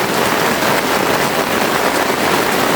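Heavy rain falls on a camping tent, a dense, loud, steady patter of drops hitting the fabric, continuous and close with no voices.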